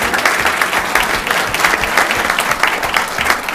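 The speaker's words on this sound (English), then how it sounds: "round of applause." Audience applause fills a city council meeting during an award presentation, steady dense clapping from a room of people with scattered cheers, loud and continuous throughout.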